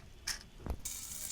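Boondi batter drops into hot oil and fries, giving a couple of brief sharp spatters followed by a steady bright sizzle, with no voices over it.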